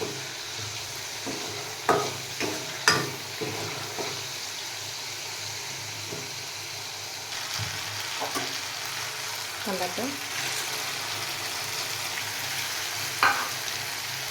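Tomato puree sautéing in oil with onion and ginger-garlic paste for chole, a steady soft sizzle broken by occasional stirring scrapes and clinks in a home kitchen.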